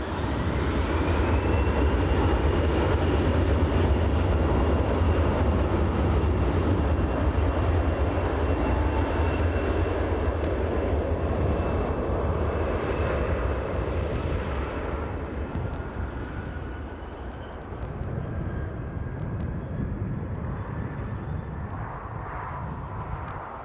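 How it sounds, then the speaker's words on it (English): Ryanair Boeing 737 jet at Newcastle Airport, a loud sustained engine roar with rising whine tones that slowly fades as the aircraft moves off, no talking. "that Ryanair Boeing 737, of course, joining us from Malaga International Airport"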